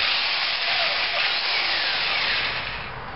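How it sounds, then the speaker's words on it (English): A power drill bores a pilot hole before a screw is driven, a close, loud, steady whirring grind that tapers slightly toward the end. "so I'm just going to drill it first."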